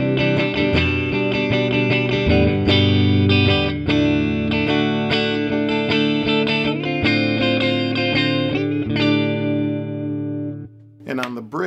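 Fender Parallel Universe Tele Thinline Super Deluxe electric guitar on its middle pickup position, a steady run of picked notes and chords ringing into each other with bright sustain, up close and loud, ending in a brief pause.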